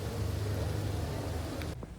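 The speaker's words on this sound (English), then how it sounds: "the rain cooled things down and added a unique atmosphere to the temple" Steady rain falls at a Buddhist temple in Bangkok, a dense continuous hiss with low rumbling underneath that drops off abruptly near the end.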